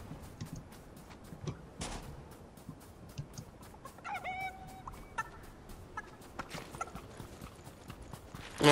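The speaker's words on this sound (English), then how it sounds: "Ah, I hear the chicken." A chicken clucks in a short, faint run of calls amid footstep-like clip-clop sounds and ambient noise in Fortnite.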